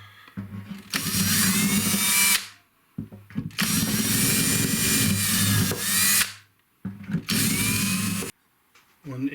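A power drill with a 5/32 bit whirs in three long bursts separated by short pauses, close and loud, with a grinding, slightly ratcheting tone as it clears glue from holes in an Epiphone acoustic guitar headstock.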